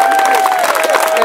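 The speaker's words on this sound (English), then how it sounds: "Clap, guys. Clap." Audience clapping at a Hawaiian hukilau show on Oahu, a short burst of crowd applause and cheering with voices mixed into the noise.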